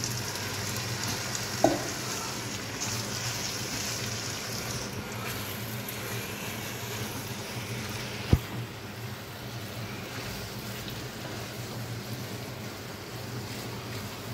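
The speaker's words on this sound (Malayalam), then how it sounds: "ഞാൻ ഈ ചിക്കൻ ഏതായാലും ഈ ബട്ടർ ഒലിവ് ഓയിൽ മിക്സിലേക്ക് ഇട്ട് നന്നായിട്ടൊന്ന് സോട്ട് ചെയ്തെടുക്കുകയാണ് ചെയ്യുന്നത്" Chicken thigh fillets sauté in a butter and olive oil mix, giving a steady, even sizzle that stays fairly faint throughout, with a small clink of a utensil now and then and no talking.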